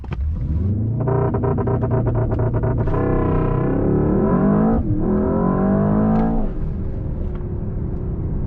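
A 2024 Mercedes-AMG S63 sedan with its new V8 does a race-start launch: a loud throbbing rev, then a surging acceleration roar rising through gears with a brief shift dip, heard from the cabin.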